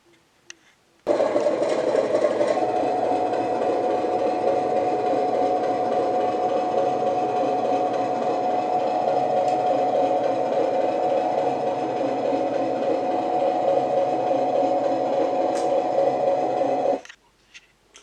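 Model train locomotive towing a 63-foot Mark 1 coach around a tight 3'6" radius curve, a steady motor hum and running drone lasting about sixteen seconds, close and alone.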